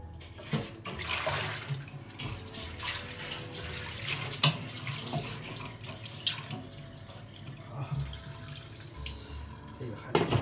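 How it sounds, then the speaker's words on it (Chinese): Clean water runs over napa cabbage as it is rinsed in a home kitchen, a steady splashing tap flow with brief clatters, close and moderately loud, with no talk over it. "用那个清水给它投一下。"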